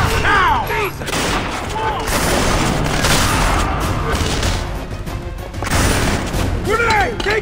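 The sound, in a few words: grenade explosion and gunfire in the video game Splinter Cell Conviction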